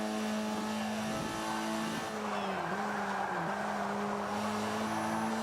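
Mazda Miata MX-5 racing in Forza Motorsport 5, its engine droning steadily with shifting pitch through corners and a straightaway, continuous and close with brief tire squeal, no talk.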